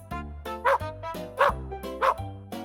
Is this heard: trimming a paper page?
no